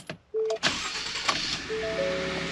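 A Ford F-150 EcoBoost pickup cranks briefly and fires up, settling into a steady close idle, with a few chimes and clicks from the cab over the engine.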